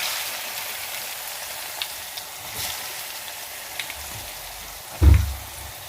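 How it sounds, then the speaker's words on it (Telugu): Pieces dropped into hot oil with turmeric, a soft continuous sizzle and crackle with scattered pops, ending in a loud close thud and burst of frying. "ఆయిల్ కాగింది, పసుపు వేయాలి, ముక్కలు వేస్తున్నా"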